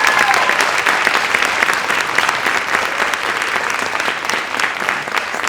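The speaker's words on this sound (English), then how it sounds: "Let's give them a big round of applause." An audience at a senior research symposium gives steady, loud applause throughout, a dense continuous patter of many hands with no talking.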